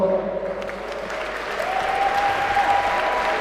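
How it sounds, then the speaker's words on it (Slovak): A crowd at a boxing event applauds the fighters Bill Tankó and Tamarka after a super lightweight bout, a steady, dense wash of clapping lasting throughout, with a faint sustained tone running beneath it. "Obrovský potlesk poprosím pre Billa Tanka a špeciálny veľký potlesk pre Tamarku"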